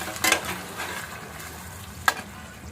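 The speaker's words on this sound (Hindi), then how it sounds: "अब मैं इस मसाले को भून लेती हूँ अच्छे से" Onion, garlic and ginger paste masala with bay leaves frying in oil, heard as a soft steady sizzle broken by two sharp utensil scrapes or taps, near and moderately loud, with no voices.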